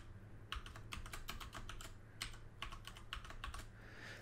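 Rapid bursts of typing on a computer keyboard during a hacking exercise, clusters of crisp key clicks in two flurries separated by a short pause, close and clear with a low steady hum underneath.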